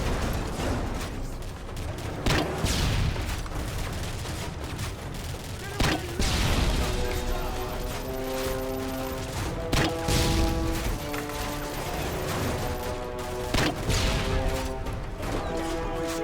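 In the video game Call of Duty Modern Warfare 3, sharp bursts of gunfire crack out alongside heavy mortar blasts. Loud impacts are scattered irregularly over a busy battle din with tonal background sounds.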